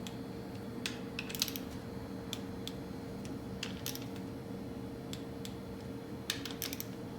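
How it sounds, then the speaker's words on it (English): Bolts on the pump body of a 4L60E automatic transmission are tightened during a case assembly, giving faint, sparse metallic clicks and ticks spaced irregularly over a quiet workshop background. "Pump body needs to be torqued."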